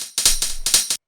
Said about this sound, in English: you get a really full sounding little like background hi-hat loop.